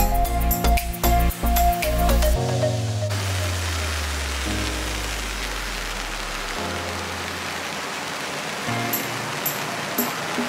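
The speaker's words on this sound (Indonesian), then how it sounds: "Di sini cuacanya sudah mulai turun hujan" Rain beginning to fall along a hiking trail on Elephant Mountain (Xiangshan) in Taiwan, heard as a steady, fairly loud wash of drops on surfaces with a few deep rumbles and clatters early on, no talking.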